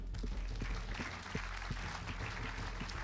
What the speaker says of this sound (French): On les applaudit tous les 5